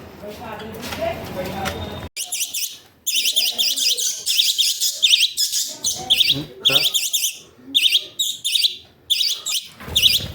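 Bright, rapid chirps and tweets from small pet birds, including cockatiels, come in repeated bursts, close by, after a short stretch of muffled background noise.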